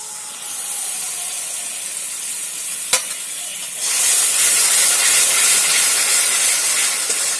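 Whisked yogurt poured into sizzling fried spice paste for jackfruit curry: a steady frying hiss, a sharp clink, then a louder, brighter sizzle and steam surge as the yogurt hits the hot pan.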